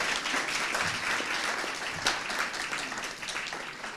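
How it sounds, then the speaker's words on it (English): Audience applause for panelists at a content marketing summit panel discussion, steady dense clapping from a large crowd filling the room for about four seconds with no voices over it. "A round of applause for y'all."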